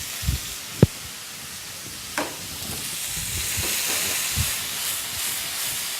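Hand-cut mushrooms fry in a little oil in a very hot pan, giving a steady soft hiss and sizzle punctuated by a few sharp clicks and taps, with no talking.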